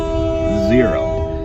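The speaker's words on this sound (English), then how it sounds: "That is a train." A passing train sounds a long, steady horn chord that holds through the whole moment, heard from inside a stopped car, while a voice speaks briefly over it.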